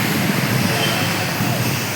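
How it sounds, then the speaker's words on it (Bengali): A car drives over a waterlogged road after rain, giving a constant loud rushing hum that could be engine and splashing, with voices likely mixed in. "জলের উপর দিয়ে গাড়ি চলে যাচ্ছে।"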